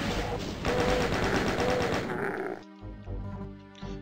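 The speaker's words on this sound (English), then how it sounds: "Go ahead and chain gun these imps." Chaingun fire in Doom II against imps: a rapid, loud, continuous stream of gunshots over game sounds and monster noises, breaking off sharply near the end into quieter in-game sounds.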